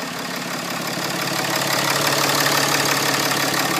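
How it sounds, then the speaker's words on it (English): A 2014 RAM Laramie turbo diesel engine idles steadily at close range, a constant low rumble with a faint knocking texture that swells slightly louder partway through. "turbo diesel engine"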